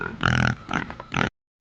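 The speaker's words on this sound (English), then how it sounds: "pig," A farm pig makes a close, loud series of three rough grunting oinks in quick bursts, then falls silent.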